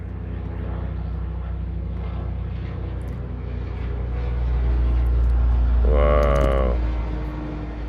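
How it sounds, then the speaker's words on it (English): A helicopter passes overhead, its steady low rotor drone swelling louder toward the middle and then easing off, with a brief exclamation from someone nearby. "You guys can hear this chopper."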